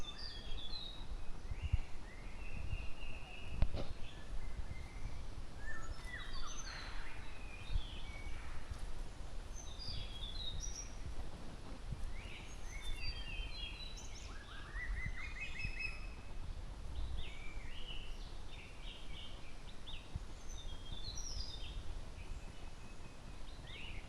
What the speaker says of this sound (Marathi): अनेक प्रकारचे पक्षी या ठिकाणी आहेत